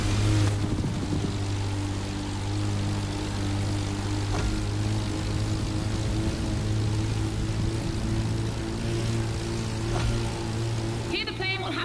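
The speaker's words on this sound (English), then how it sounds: "Here the plane will have to make very tight turns if it wants to keep up with the AGP" Propeller plane racing an AGP vehicle on the same course in The Crew Motofest video game, a steady engine drone with harmonic hum running throughout, loud and continuous with faint background noise.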